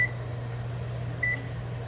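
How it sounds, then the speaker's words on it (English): A microwave oven hums steadily while thawing a burger, a constant low drone up close, with two short high beeps, one at the start and one after about a second. "My burger is in the microwave right now thawing"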